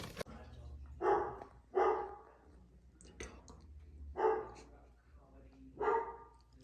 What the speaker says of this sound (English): My mans will not stop barking.